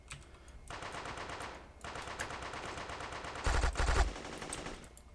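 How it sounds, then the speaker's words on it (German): Light machine gun fire in the block-built shooter Guncraft, fairly quiet sustained bursts of rapid shots broken by short pauses, with one louder closer burst near the end, no talk. "Du hast die ganze Zeit auf mich geschossen, aber kein einziges Mal getroffen"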